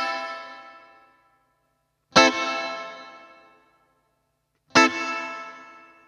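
Three strummed electric guitar chords, each ringing out with a long, splashy spring reverb tail that decays over about a second before the next strike.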